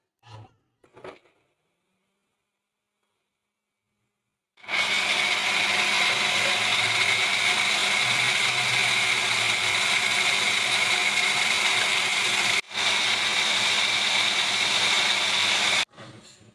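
A blender grinds ginger into paste steadily at high speed for about eleven seconds with one brief break, preceded by a few faint clicks and bumps.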